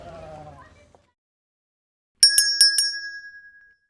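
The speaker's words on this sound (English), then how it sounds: "Bells on the shop door jingle as Iris, HANNA and Cornelia step onto the st" Bells on a shop door jingle in a quick cluster of four bright strikes that ring out and fade, following a short stretch of quiet voice and silence.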